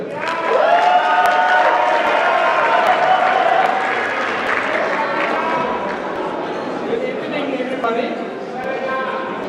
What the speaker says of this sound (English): Round of applause for Memachrit Bester.